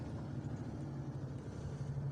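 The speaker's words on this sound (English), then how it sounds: "You can even hear it from the engine sound, okay?" A truck engine drones with a steady low rumble, quiet and continuous from inside the cab, with no talk over it.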